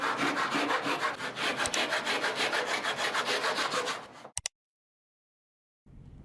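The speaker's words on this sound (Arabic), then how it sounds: "نجيب بقى قصقوصة خشب نثبتها بالسوبر جلو كفورمة نكرر عليها قص المكعبات، ونبتدي بسم الله القص" Hand saw cutting through small wooden cubes held against a glued wooden scrap jig, loud steady rasping back-and-forth strokes for about four seconds, then a couple of sharp knocks, silence, and faint rustling at the end.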